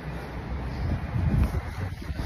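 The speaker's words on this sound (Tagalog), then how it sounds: "Lakas ng ngayon, ng hangin. Windy ngayon guys," Strong wind blowing outdoors on a walk, buffeting the microphone as a low, rumbling roar that swells and eases in gusts, fairly loud, with no speech.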